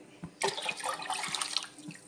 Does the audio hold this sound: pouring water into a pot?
yes